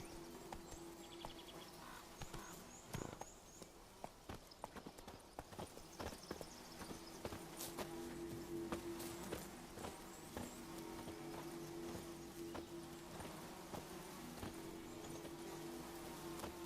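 The horse Roach gallops in The Witcher 3, a steady, fairly loud clip-clop of hooves running throughout, with a thin insect-like buzz and drone layered beneath.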